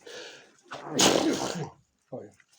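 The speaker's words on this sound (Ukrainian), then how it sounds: "Я їх настрахав чиханням своїм" A man's loud, sharp sneeze bursts out near coypus in a cornfield, framed by breathy noises and brief vocal sounds before and after.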